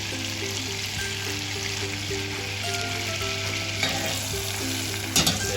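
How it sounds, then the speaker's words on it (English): Butter sizzling steadily in a pan as it clarifies, a dense continuous crackle and hiss with a low steady hum beneath and a brief clatter near the end, no talking. "now the butter's starting to clarify"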